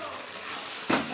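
Raw chicken pieces dropped into a hot pan give a sudden sizzling burst near the end, rising out of a low steady background hiss of frying.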